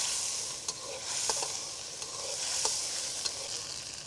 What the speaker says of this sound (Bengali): পেঁয়াজ রসুন আর মরিচ পেস্টটা হচ্ছে তৈলের উপরে দেওয়ার সাথে সাথে একটা স্মেল বের হয়